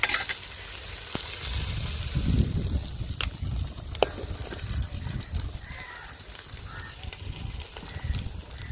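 Onions, green chillies and whole spices fry in a pot for a mutton pulao, giving a steady close sizzle with occasional stirring scrapes and clinks, no talk.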